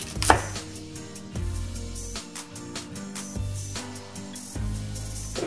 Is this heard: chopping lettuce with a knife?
yes